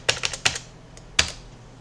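Keystrokes on a computer keyboard entering a value into PC bass software, a quick burst of four or five clicks, a pause, two more taps and then a single final key press, close and fairly quiet.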